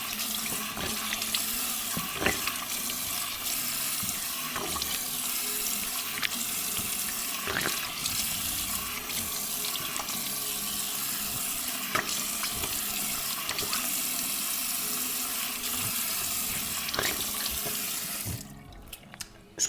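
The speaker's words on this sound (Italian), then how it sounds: "vado a bagnare con acqua fredda per chiudere i pori" Cold tap water runs steadily into a bathroom sink while a face is rinsed during a shave. The flow is continuous and fairly close, with small splashes throughout, before cutting off near the end.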